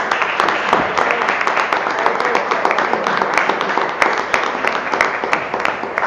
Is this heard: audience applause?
yes